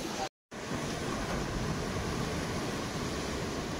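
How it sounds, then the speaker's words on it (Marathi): Steady broadband rush of sea waves and wind heard from a clifftop campsite above the ocean, continuous and fairly loud after a brief dropout at the start, with no talking. "आणि आज समोर आहे ना समुद्र आहे."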